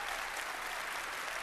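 A large audience claps steadily at the Bethesda E3 2015 press conference, a dense unbroken wash of applause filling a big hall, with no voices standing out.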